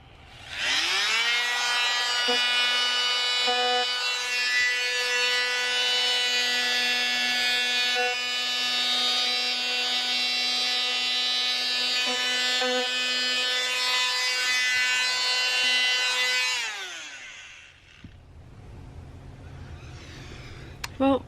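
Power tool sanding the metal around a window opening in a Sprinter van conversion gives a steady high whine that holds for about sixteen seconds, then winds down and stops, leaving a quiet room.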